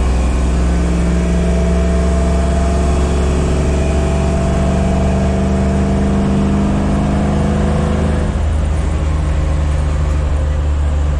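An LS3 V8 in a Scout 800 pulls steadily in fourth gear, its loud low engine drone rising in pitch with the speed. Road and wind roar sit close underneath, and the tone eases off near the end.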